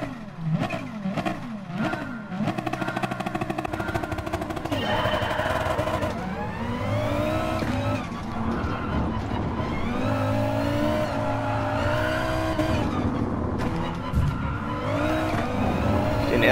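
Race cars in the Gran Turismo Sport video game: engines rev and accelerate through rising and falling gear changes, with tire squeals and a continuous loud roar of several cars throughout.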